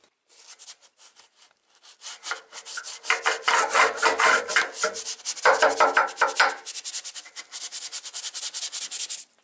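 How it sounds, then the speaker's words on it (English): A small paintbrush scrubbing water onto a wall before scraping, with close rhythmic bristle rubbing in quick back-and-forth strokes, growing louder and continuing steadily, no voices. "using a paintbrush, a small brush, is I'm going to wet in round there"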